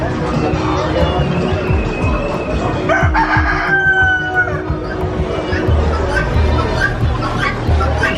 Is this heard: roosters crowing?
yes